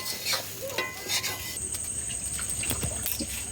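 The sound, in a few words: stirring basmati rice in a pan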